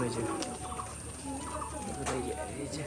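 A pair of pigeons, a male and a female, coo softly near their cage. The calls are faint and low, and someone talks quietly over them.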